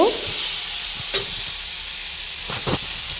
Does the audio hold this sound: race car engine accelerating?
no